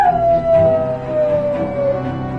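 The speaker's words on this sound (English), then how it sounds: "The dog seemed to sense it, letting out a mournful cry." A dog lets out one long, mournful howl that slowly falls in pitch, loud and close, with no talking over it.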